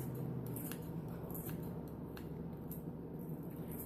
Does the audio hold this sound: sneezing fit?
no